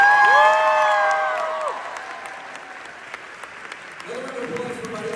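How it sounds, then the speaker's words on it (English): Applause from a graduation ceremony audience swells in the background, a soft continuous patter of clapping with some cheering, while voices speak over it near the start and again at the end. "Another round of applause for Fariza Karim."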